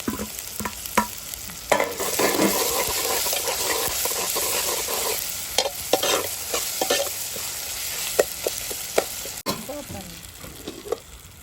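Tomato and onion sautéing in a pan for coconut fish curry, with a steady sizzle broken by repeated spatula scrapes and knocks at an uneven rhythm, close and fairly loud throughout.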